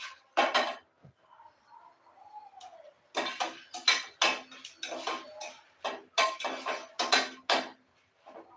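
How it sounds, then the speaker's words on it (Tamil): A spoon stirs curry leaves and other ingredients dry-roasting in a pan for curry leaf powder, making bursts of scraping and clattering against the metal, loud and close, with a quiet pause in between. "இது நல்லா வறுபடட்டும்"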